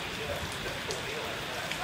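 Heavy rain pours steadily during a tornado warning with a funnel cloud nearby, a dense, even hiss filling the short stretch with no pause.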